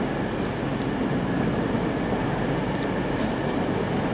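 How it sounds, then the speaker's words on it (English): A train pulls into a platform at London Euston station, giving a steady, loud rumble of rolling wheels and carriages with faint higher squeals, continuous throughout and with no talk. "The train's coming in on platform 5."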